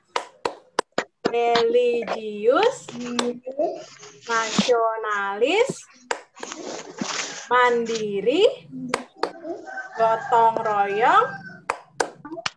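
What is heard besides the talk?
class doing the rhythmic PPK clapping routine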